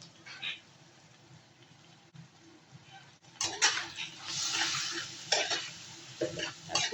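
A spoon scrapes and stirs spices with coriander powder and salt in a cooking pot, quiet at first, then louder irregular scraping strokes over a soft sizzle, close by.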